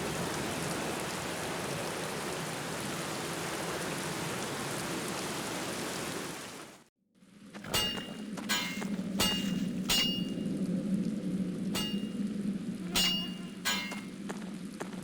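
Heavy rain hisses densely in the 2003 PC game The Black Mirror, breaks off for a moment, then resumes as a softer downpour with scattered sharp drips and knocks.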